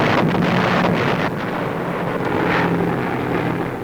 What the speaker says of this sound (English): American bombers come over Ludwigslust in central Germany